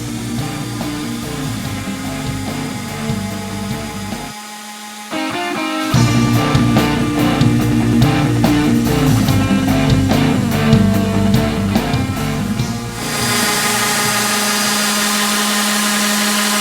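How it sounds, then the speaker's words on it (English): Power sander with 60 grit sandpaper working over wooden furniture, a loud steady close whine and grinding hum that briefly dips around the fifth second, then resumes harsher with rhythmic scraping, running continuously without talk. "We come back through with the pencil and then sand until this 60 grit has a nice smooth finish."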